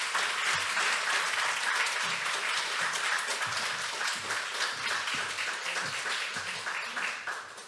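A church congregation gives a welcoming round of applause for a speaker: dense, sustained clapping from many hands that thins and fades toward the end.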